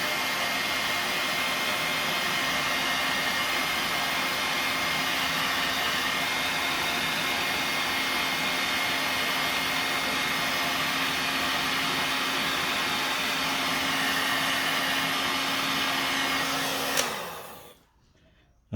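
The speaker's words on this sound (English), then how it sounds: "And then using a heat gun, shrink the wire." A heat gun blows steadily and loudly for about seventeen seconds while shrinking heat shrink tubing over a wire for puddle projection lights, then cuts off abruptly and the airflow whirs down to quiet.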